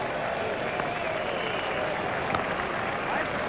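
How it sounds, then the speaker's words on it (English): A cricket crowd at a one-day international cheers and applauds a boundary, a dense continuous roar of clapping and shouting from a large stadium audience. "The crowd were brought to their feet by that shot."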